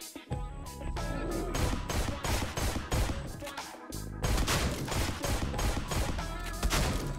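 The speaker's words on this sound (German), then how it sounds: "Da schnappe ich mir aber noch mal schnell zwei Schuss für die Schrotze. Dann hauen wir dem mal eine Ladung rein." Shotgun blasts and gunfire in the video game Deadbolt, dense and loud throughout, with repeated sharp bursts layered over a busy game soundtrack.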